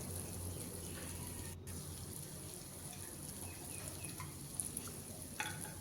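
Potatoes frying in a pan for a Bengali pui chorchori make a quiet, steady sizzle with faint stirring and a few small clinks near the end.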